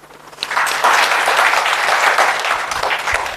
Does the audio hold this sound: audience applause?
yes